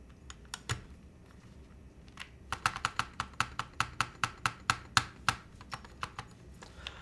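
Keystrokes on a custom Holy60 mechanical keyboard with a metal keycap: a few scattered clacks, then a rapid, evenly spaced run of sharp, crisp taps, close and clear with no talking.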